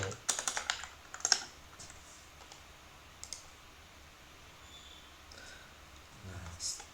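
Quick bursts of computer keyboard typing, crisp clicks clustered near the start then sparse taps, quiet and close in a calm room with no talking.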